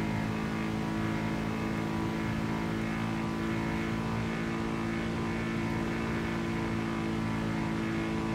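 A Ferrari FS90 in GTA V accelerates at very high speed near 400 km/h, its engine a continuous, steady, loud whine that holds without a break.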